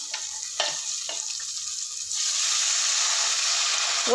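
Tamarind water is poured into a hot pot of frying onions and spices for vathakuzhambu rice; a few stirring scrapes and sizzle give way to a louder, steady hissing rush as the liquid hits.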